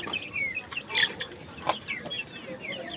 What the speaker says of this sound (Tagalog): Ito yung mga alaga naming mga manok